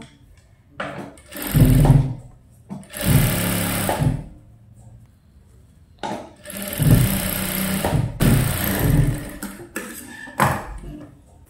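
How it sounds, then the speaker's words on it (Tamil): Sewing machine stitching a folded seam on a princess-cut blouse, running in two loud bursts of a few seconds each with short pauses and small taps between them, close up and with no talk. "இப்போ இதை மடக்கி நம்ம தையல் போட போகிறோம்."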